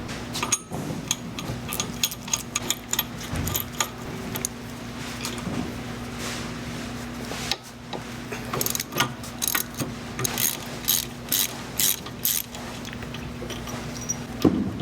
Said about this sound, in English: We're gonna go ahead and get a 14mm and remove this axle bolt.